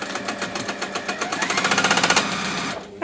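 A sewing machine stitching the seams of a waxed fabric bag, its needle running in a fast, steady rhythm that speeds up slightly, loud and close, then slows and stops near the end.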